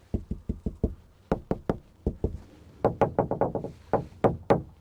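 Knuckles rap on the dented metal roof of a camper van fitted with solar panels, in quick irregular bursts of hollow knocks, close and fairly loud, no talk.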